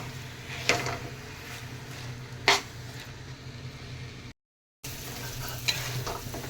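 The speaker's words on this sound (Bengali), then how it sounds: "সব কিছু ভালো করে মিশিয়ে নিয়েছি" Taro leaves (kochu shak) stirred in a frying pan, continuous soft sizzling broken by a few distinct spatula scrapes against the pan, with a brief dropout of silence partway through and no speech.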